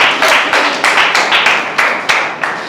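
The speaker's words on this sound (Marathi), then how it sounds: "टाळ्या वाजवा आपल्या मित्रासाठी का" Children in a classroom clap for a friend, a loud, close burst of quick uneven claps with several short surges, no speech over it.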